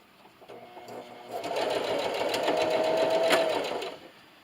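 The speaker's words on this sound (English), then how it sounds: "so I'm over here at my sewing machine, and I went ahead and sewed a couple of these pocket lines" A sewing machine stitches a pocket line across fabric for a trifold notebook and pencil case, running steadily for about two and a half seconds at close range before stopping. The recording is quiet, with no speech.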